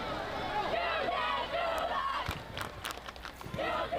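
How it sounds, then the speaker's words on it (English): Eastlake high school football fans chant the "You Can't Do That" chant in the stands at a varsity game against Bellevue, a rhythmic crowd roar with rising and falling voices, moderately distant. "Eastlake fans are cheering the "You Can't Do That" chant"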